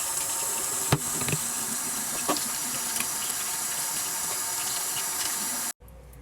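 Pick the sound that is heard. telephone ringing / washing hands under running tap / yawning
washing hands under running tap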